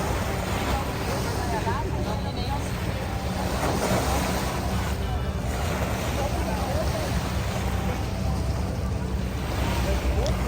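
Steady wash of water and wind with a broad low rumble of boats moving on Lake Como, Italy, continuous and fairly loud throughout.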